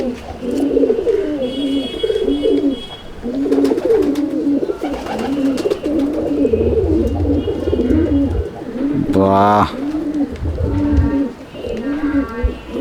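Pigeons in a loft coo in a rhythmic, repeating pattern, close and steady, while someone talks over them and a brief sharp rustle breaks in near the end.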